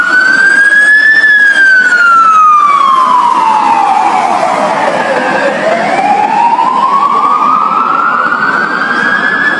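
Fire engine siren, loud and close, wailing in long slow sweeps that rise, fall and climb again over a rumbling truck engine, with no voices.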